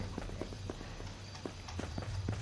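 A horse walks in the video game Sacred Gold, its hooves clip-clopping in an uneven, moderately spaced rhythm, fairly faint over a low background hum.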